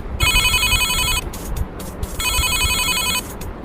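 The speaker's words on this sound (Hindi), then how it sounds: "तभी टेलीफोन की घंटी बजी।" A telephone rings in two long electronic bursts with a short gap between them, loud and close over a low background rumble.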